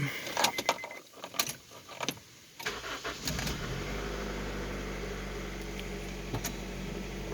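1998 Honda CR-V, with some keys and handling clicks first, then the engine cranking and catching about two and a half seconds in and settling into a steady close idle.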